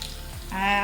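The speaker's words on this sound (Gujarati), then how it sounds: "હવે તેને આપણે ઢોકળામાં એડ કરી દઈએ વઘાર." Hot tempering oil hisses briefly as it is poured over freshly steamed rava dhokla, a short, fairly quiet sizzle that swells toward the end.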